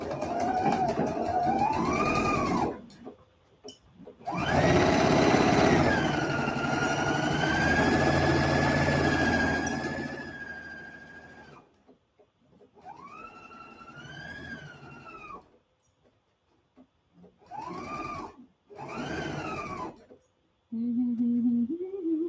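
A sewing machine stitches a shoulder seam, its motor whirring up and down in pitch through several separate bursts with short pauses between them.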